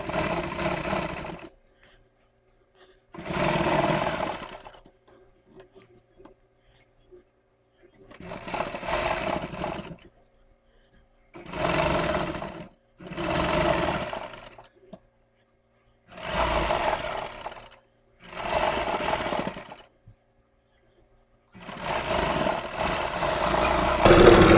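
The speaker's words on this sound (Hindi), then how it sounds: "तो पहले हम बाहर तरफ जो वाली पाइपिंग है, इस पर एक सिलाई लगाकर इसे पैक कर देते हैं।" A sewing machine stitches piping onto a net blouse in repeated bursts of rapid, close, loud motor whirring, each run lasting a second or two and separated by quiet pauses.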